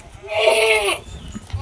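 A goat bleats loudly and close by for about half a second, with a wavering, harmonic cry near a goat pen beside a swollen river, followed by quieter outdoor background noise.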